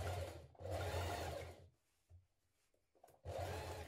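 A sewing machine stitches the seam of a ruffle dress in two close, steady whirring runs separated by a quiet pause with small handling clicks, then starts up again. No one speaks.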